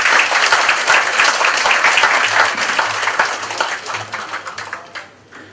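Audience applause welcoming the Karmapa at the grand opening of the KKBC building in Singapore, a dense sustained clapping from a large crowd that slowly thins and fades out over several seconds.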